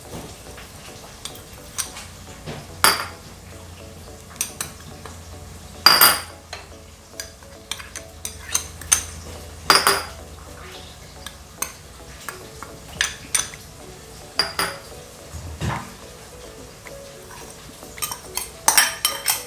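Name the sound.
adding spices to the fish biryani pot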